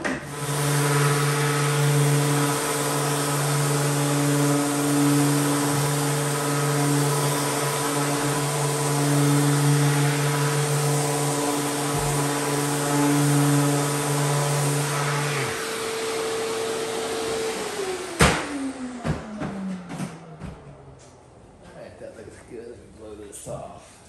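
A power sander works steadily on the underside of a pinball playfield part during a Cactus Canyon machine refresh, a loud constant whine with tonal hum that runs for about sixteen seconds, then winds down and stops, leaving scattered handling clatter.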